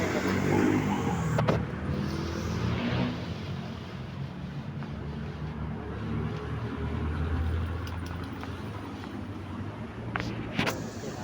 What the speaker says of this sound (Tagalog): Dito po tayo sa may highway na San Fernando, Pampanga.